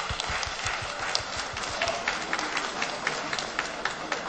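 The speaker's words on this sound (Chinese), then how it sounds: "我们用热烈的掌声有请洪芬飞老师" Applause and clapping from a theater audience greeting a Yue opera performer, a dense, steady patter of many hands that fills the hall throughout.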